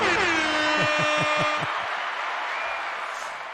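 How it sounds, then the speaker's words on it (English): An air horn alert on a livestream blares loud and steady for a few seconds, with a rapid, pulsing blast sequence near the start, then fades out slightly at the end. "I think I turned on a thing that said super chat alert alarm or something"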